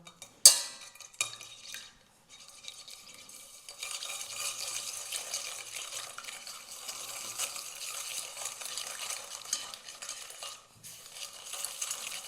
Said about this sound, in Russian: Добавляем сахар и хорошо взбиваем.